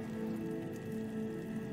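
Steady rain falls outdoors in a continuous close patter, with a constant hum running underneath.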